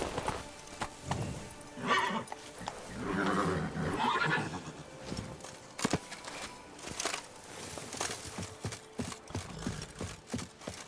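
Roach, Geralt's horse in Witcher 3, whinnies and snorts close by, then hooves clop along in a steady walking rhythm, moderately quiet and without talking.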